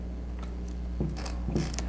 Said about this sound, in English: We've advanced the film and cocked the shutter.